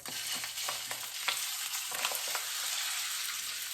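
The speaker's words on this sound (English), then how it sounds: "I have oil heating in the pan. I'm going to put the sausage in." Chicken sausage sizzles and crackles steadily in hot oil in a pan, with faint scraping or stirring ticks over the frying noise and no talking.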